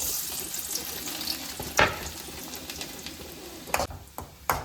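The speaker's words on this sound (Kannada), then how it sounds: "ಸೊ ಎಣ್ಣೆ ಕಾದಿದೆ. ಫಸ್ಟ್ಲಿ ನಾನು ಬೆಳ್ಳುಳ್ಳಿ ಹಾಕೊತಾ ಇದ್ದೀನಿ." Garlic dropped into hot oil in a home kitchen pan for spicy pepper chicken gives a steady low sizzle, with a few sharp clattering stir or utensil hits near the middle and end.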